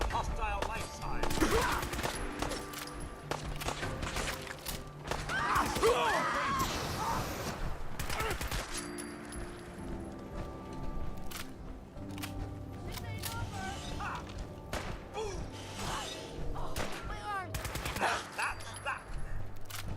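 Rapid bursts of gunfire in the Fallout 4 video game, dense volleys and single sharp shots cracking across the scene, with game sounds and voices talking over the shooting.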